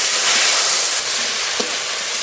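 Ground spices (cumin, dried chili, turmeric) frying in a pan with a splash of water, giving a steady, close, dense sizzling hiss that runs unbroken throughout, with a brief faint tick near the end.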